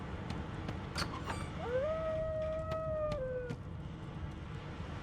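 A dog in Divinity: Original Sin 2 lets out a single drawn-out howl, rising then holding steady before trailing off, heard clearly over a low, rumbling game ambience.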